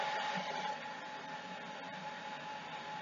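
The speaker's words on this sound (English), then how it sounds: "I'm going to use the hairdryer and turn it on first." A steady, even blowing hum runs continuously at moderate volume, like a hair dryer on a constant setting, with a faint tonal whine.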